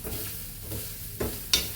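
Grated coconut and three green chillies roast in a pan, with soft sizzling broken by a few scraping stirs and a sharp clink near the end, close up with no voices.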